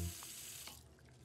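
Cartoon sound of water running from a tap, a short, soft continuous rush that tapers off, heard on its own.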